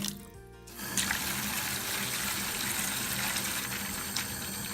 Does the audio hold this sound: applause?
no